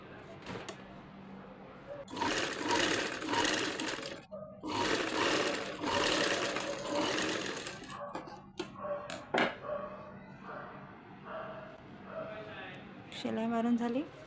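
Sewing machine stitching a fabric zipper pouch along the zip and around the edges, a steady whirring run in several bursts with pauses, mid-distance, under a running voiceover.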